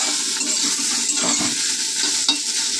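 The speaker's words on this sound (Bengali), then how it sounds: "তো চলো সোয়াবিনটা ভাজা হোক।" Steady sizzling of soybean chunks frying in a pan, with occasional scraping and stirring clicks, continuous and fairly loud throughout.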